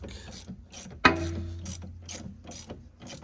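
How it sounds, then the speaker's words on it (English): A 14mm ratchet wrench clicking on a rear shock bolt under a Honda Fit, a sharp metallic clack followed by steady rhythmic ratchet ticks, close and crisp. "So we got our 14mm wrench down on the shock."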